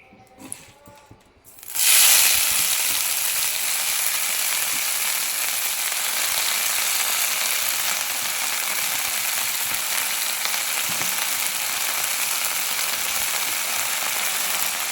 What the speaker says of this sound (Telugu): ఇప్పుడు ఇదే కడాయిలోకి ఇంక కొద్దిగా నూనెను అయితే వేసుకొని ఇప్పుడు ఇందులో పుదీనా వేసుకోవాలి